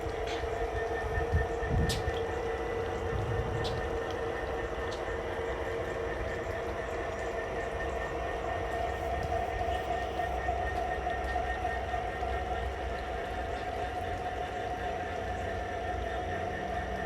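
A G scale model coal train runs on an outdoor layout, a steady rolling rumble with a sustained tonal whine and occasional clicks, continuous and fairly close, with someone talking over it.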